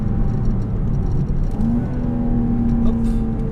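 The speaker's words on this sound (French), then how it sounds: "On sent le turbo qui souffle comme pas possible." Volvo V60 Polestar estate accelerating hard, its engine drone rising with a climbing turbo whine, heard loud from inside the cabin.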